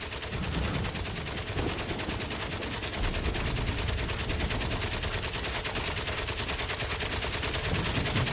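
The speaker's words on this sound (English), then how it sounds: "We got machine gun fire at the far side here." Sustained machine gun fire across a World War I battlefield in Valiant Hearts: The Great War, a dense, continuous rattle of loud rapid bursts with no pauses and no voices.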